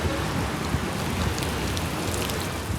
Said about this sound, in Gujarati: વરસાદ પણ બહુ જ હતો